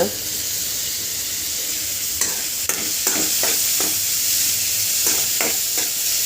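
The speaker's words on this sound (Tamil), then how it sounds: "நல்லா வதக்கிக்கோங்க இப்போ வந்து வெங்காயம் தக்காளி வந்து நல்லா வதங்கிருச்சு" Onions and tomatoes fry in a pan with a steady sizzle while a spatula scrapes and stirs, producing a series of distinct clacks and scrapes against the metal.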